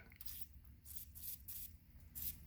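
Carb cleaner is sprayed through the jets of a Polaris 500 carburetor in several short, hissing bursts, close up and fairly quiet, with wet squishing between them.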